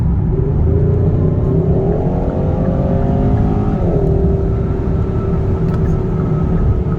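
A 2021 Hyundai Sonata N Line accelerating onto a freeway, its engine droning loud and close from inside the cabin, pitch climbing steadily then dropping at a gear change before rising again over constant road rumble.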